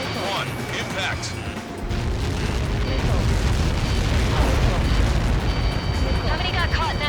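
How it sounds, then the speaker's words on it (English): A huge explosion from the aerial combat video game Ace Combat 7 swells into a long, heavy rumbling roar, with radio voices talking over the blast. "How many got caught in that explosion?"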